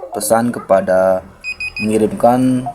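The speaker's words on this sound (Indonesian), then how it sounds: "perintah untuk membunyikan buzzer sebagai tanda peringatan dan LED sebagai indikator" An ESP32-based greenhouse system sounds its buzzer as a temperature warning alarm, giving short steady beeps between stretches of a person talking.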